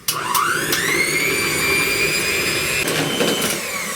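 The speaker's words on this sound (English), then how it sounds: "using the electric mixer. I want to beat this until I've got stiff peaks" An electric mixer beats a cheesecake mixture toward stiff peaks with a close, continuous high-pitched motor whine and a few brief knocks against the bowl.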